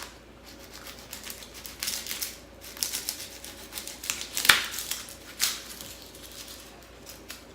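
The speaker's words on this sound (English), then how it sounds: "I'll take a serrated knife and I'll cut the top of the head of garlic" A serrated knife saws the top off a whole head of garlic in a series of faint, crisp scraping and crunching strokes, with one sharper snap midway, close and quiet.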